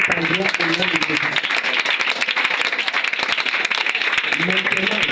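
A church congregation applauds in a sustained, dense burst of clapping throughout, with a voice talking or calling out over the applause at the start and end.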